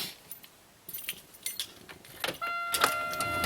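A car key is slid into the ignition of a 2001 Buick Century, bringing soft key jangles and metallic clicks followed by a steady high warning chime.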